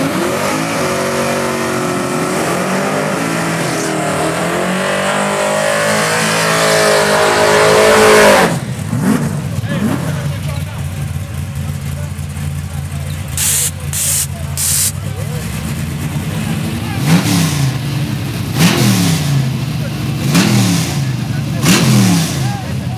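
Drag race cars, a G-body and a big-body Mustang, rev loudly at a grudge race, engines rising and falling before a roaring launch that fades as they pull away, with crowd noise and an announcer speaking throughout.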